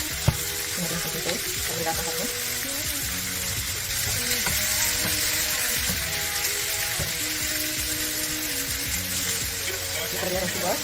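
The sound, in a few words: spare ribs frying in pan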